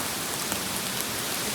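Heavy monsoon rain pours steadily in a dense, even hiss during a fort conservation trek at Sudhagad, Maharashtra, close and loud with no voices.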